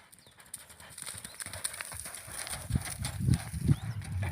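A mare's hooves clip-clop in an uneven rhythm on the ground, starting faint and growing louder and heavier as she comes closer.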